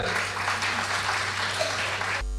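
Steady applause from a crowd, dense clapping at an even level for a couple of seconds before it cuts off abruptly.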